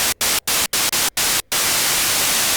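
Blue noise from an Arturia MatrixBrute synthesizer, a bright, hissy static tilted toward the treble with thin low end, cut by several short silent gaps early on before running steadily to the end.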